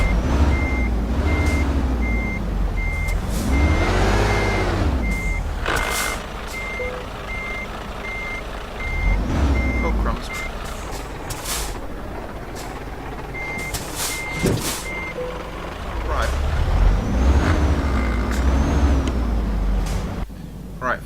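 Box truck reversing beeps in the Euro Truck Simulator game, a steady dashed series of tones running through most of the stretch over the rumbling diesel engine, with air-brake hisses and a voice talking at times.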